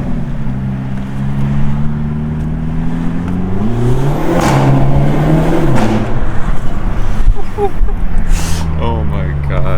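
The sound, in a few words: Hyundai Elantra N stock exhaust revving in underpass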